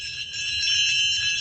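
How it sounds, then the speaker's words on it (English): An enameled claw bell, the elephant-bell type, rings with a bright, sustained metallic tone, close and clear, shimmering alone for the whole moment. "And it is one of the claw bells, which I love. They call those elephant bells because they got the claws on there."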